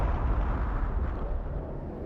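A cannon explodes in Skies of Arcadia Legends, a loud sustained rumbling blast that roars continuously and tapers only slightly over two seconds.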